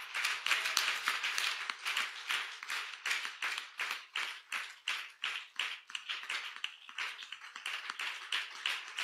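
At a church couples' seminar, an audience applauds the president with fast, rhythmic, steady clapping in unison, distant and fairly quiet, with no talking over it.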